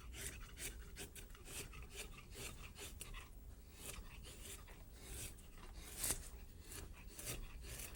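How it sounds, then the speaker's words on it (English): Quiet, close scraping as a large No. 5 carving gouge scoops wood from a clamped workpiece, shaping a curve on a carved osprey; soft rasping strokes repeat steadily, with one slightly louder scrape near the end. "take a gouge like a large number 5 and just scoop that wood away"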